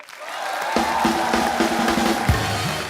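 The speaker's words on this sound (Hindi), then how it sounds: "जोरदार तालियां पहले" Studio audience applause on The Kapil Sharma Show, a dense, steady wash of clapping and crowd noise lasting the whole stretch, with short bright musical tones ringing over it.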